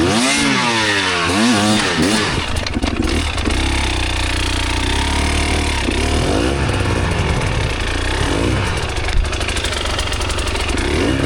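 A hard enduro motorcycle engine at the Mad Moose Hard Enduro race, loud and close, revs up and down in quick sweeps at first, then settles into a steady, labouring drone with uneven throttle blips throughout, no voices.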